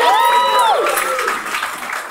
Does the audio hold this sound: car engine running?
no